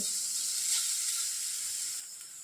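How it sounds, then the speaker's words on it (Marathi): Onion sautéing in a little oil for an aloo paratha filling makes a soft, even hiss of sizzling that fades slightly toward the end. No one speaks. "इथं थोडंसं तेल घालून हे कांदा परतून घ्यायचा"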